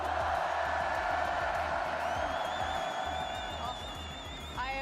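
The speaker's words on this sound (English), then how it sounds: "This crowd is insane." Large arena crowd at the Fortnite Global Championship 2025 roaring and cheering in a steady, loud wash of noise that holds throughout, with a few whistles rising above it near the end.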